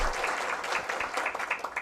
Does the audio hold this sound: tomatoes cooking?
no